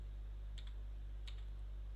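Two pairs of soft, close mouse clicks, evenly spaced over a steady low electrical hum, while adding points to a shape in design software.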